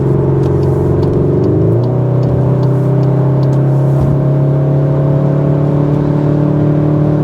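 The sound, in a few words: 2025 CUPRA Formentor VZ engine accelerating in CUPRA mode while overtaking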